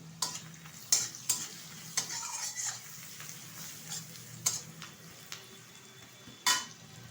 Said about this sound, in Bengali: পেঁয়াজটা কিন্তু হালকা ভাজা হয়ে গেছে